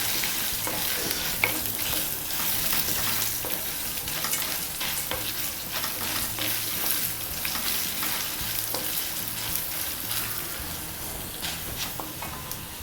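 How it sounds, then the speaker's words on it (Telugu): Ginger pieces, mustard seeds and asafoetida frying in oil in a pan for ginger chutney, a steady close sizzle with scattered crackles and light stirring scrapes, no talking. "అల్లం ముక్కలు, ఇంగువ ఇవి వేసి వేయించుకోవాలి"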